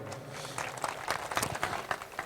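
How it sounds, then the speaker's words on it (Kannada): Audience clapping at the Siddashree Utsava celebration at Siddankolla mutt in 2023: scattered, fairly faint bursts of applause from a crowd, rising and falling over a couple of seconds. "ಚಪ್ಪಾಳೆ ಹೊಡ್ರಿ ಅವರಿಗೆ"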